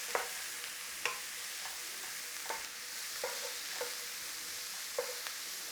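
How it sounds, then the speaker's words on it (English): Corned beef and onions sauté in a pan with a soft continuous sizzle, punctuated by repeated light scrapes and taps of a utensil stirring every second or so. "let's just start sauteing that off in there"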